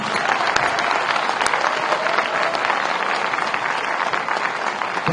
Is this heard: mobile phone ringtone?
no